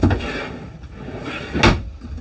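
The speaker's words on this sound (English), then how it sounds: "They're kind of mixing soft close with traditional rolling drawers as well." A drawer or cupboard door in a Jayco Northpoint 381CKRE fifth-wheel RV closes with a soft rolling slide, then one sharp knock near the end, close and alone without speech.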